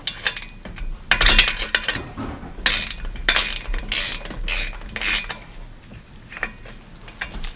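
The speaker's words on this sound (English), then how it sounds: "Next, we're going to remove the front derailleur." Front derailleur being taken off an old cruiser bicycle: close metallic ratcheting and clinking in repeated short bursts, with brief pauses between them. No voices.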